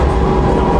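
A metro train runs above ground in Istanbul, giving a loud, dense, low rumbling roar with steady rolling noise throughout a short stretch, without talk.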